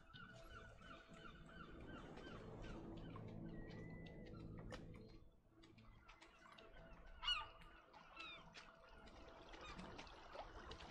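A bird calls out in the video game RiME, honking, goose-like cries scattered over trickling water and ambient sound, moderately close with one louder call partway through.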